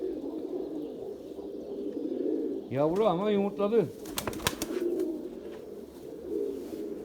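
Pigeon cooing from a loft of free-flying birds, a clear warbling call near the middle, with someone talking before and after and other light chatter in the background.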